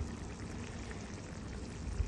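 A little water poured into a pan of desi chicken being slow-cooked, a continuous low gushing pour with bubbling beneath, steady and close with no talk.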